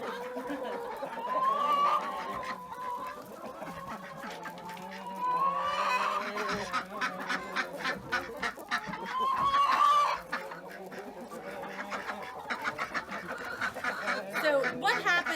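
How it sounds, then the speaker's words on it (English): Ducks and chickens leaving their pen in a backyard poultry flock, with continual clucking, quacking and honking calls at moderate distance, rising and falling in bursts. "so you see the ducks waddle their way out."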